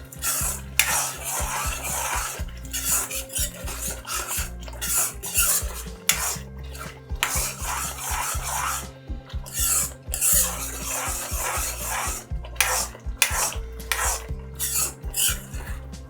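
A spoon stirs bread halwa with ghee and roasted cashews in a pan, with repeated close scraping and clinking against the metal in irregular bursts over a low sizzle.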